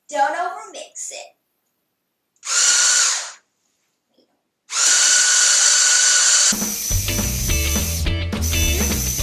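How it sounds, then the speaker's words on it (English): An electric mixer whirs through pumpkin cheesecake batter in loud steady bursts separated by brief pauses, with a voice heard at the start. "now I am going to mix it until it's creamy and smooth"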